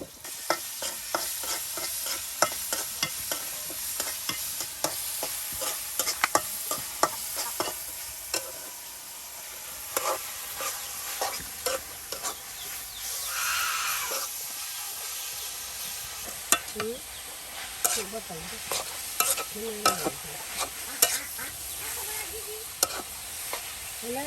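Food frying in oil in a village kitchen, with a continuous bubbling sizzle and repeated scraping clinks from stirring, and brief faint voices partway through.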